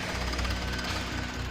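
Heavy drill coring into extremely hard bedrock for micropiles, a steady loud grinding and hammering rattle that runs without pause and with no voices.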